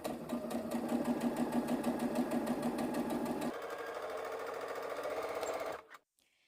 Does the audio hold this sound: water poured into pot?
no